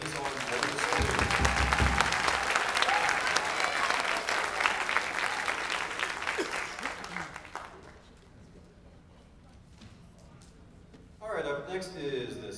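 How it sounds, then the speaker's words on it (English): An audience at a middle school spring band concert claps steadily and loudly for several seconds for the sixth grade band, the applause fading out, before a voice begins speaking. "So another round of applause for the sixth grade band."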